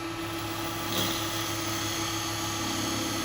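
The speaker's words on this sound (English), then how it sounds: "I'm just going to use my spindle gouge." Spindle gouge cutting wood on a lathe during woodturning, a steady whirring and rushing hum with a slight rise in bite around one second, continuous and close without talk.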